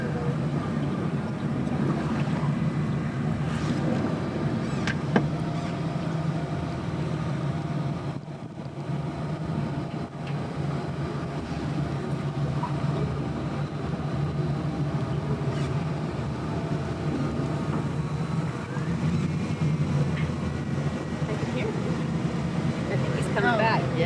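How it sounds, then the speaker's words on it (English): Steady wind rumbles across the microphone outdoors on a river for the whole stretch, with low jetboat engine drone in the background and occasional distant voices. "A little windy this morning."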